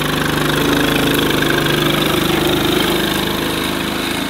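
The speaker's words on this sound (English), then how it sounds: "This tractor is awesome." Small tractor engine running steadily close by, a continuous throbbing idle with a fast regular pulse and no voices over it.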